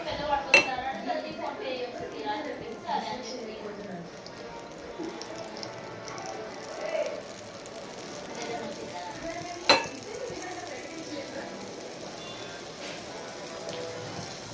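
Bread fries in melted butter in a pan with a soft, steady sizzle, broken by occasional sharp clinks of a utensil against the pan and a person speaking over it.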